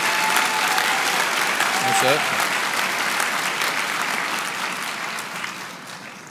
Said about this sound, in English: Yeah, let's give them some applause.